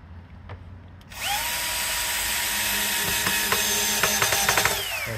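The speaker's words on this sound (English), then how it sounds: "we can put a screw in there" Power drill spinning up with a rising whine and running steadily while driving a screw into a sash window, close and loud, with small clicks and ratcheting knocks near the end.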